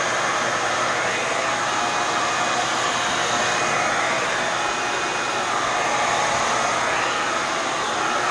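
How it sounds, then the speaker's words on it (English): A hair dryer blowing steadily at close range, a constant loud whooshing hum with no change throughout. "It's a hair dryer."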